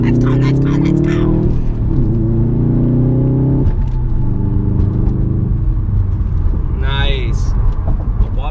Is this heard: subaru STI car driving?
yes